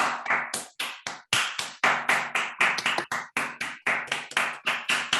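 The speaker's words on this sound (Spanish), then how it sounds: "Un aplauso para Nicolás." A small audience claps after a talk at a mathematics colloquium, with sparse, distinct hand claps rather than a dense roar, steady for about five seconds with brief gaps.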